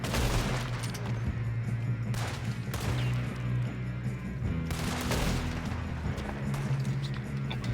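Gunfire in Red Dead Redemption 2: rapid bursts of close, loud shots and rattling volleys, with heavier blasts breaking through around the middle and later on, under an ongoing game soundscape.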